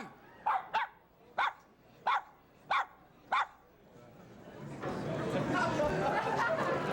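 A dog named Spike gives six sharp, evenly spaced barks in a row, close and clear, before a swell of crowd chatter and ambient noise takes over.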